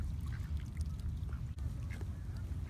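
Ducks on Lake Miramar in San Diego, at sunset, gather as bread is tossed to them; faint scattered quacks sit under a steady, heavy wind-like rumble.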